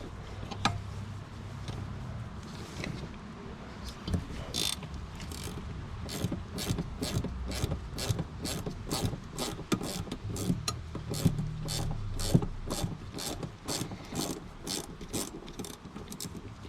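Rapid clicking of a ratchet wrench working a fastener while detaching a motorcycle's front brake caliper, dozens of close, even clicks in quick runs with brief pauses, no talking.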